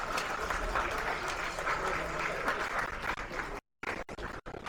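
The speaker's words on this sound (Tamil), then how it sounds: "சார், உங்களுக்கு கைத்தட்டெல்லாம் அதிகமா இருக்கு சார்." Audience applause at a Tamil movie audio launch event, a steady wash of clapping from a crowd that breaks off abruptly near the end with brief gaps.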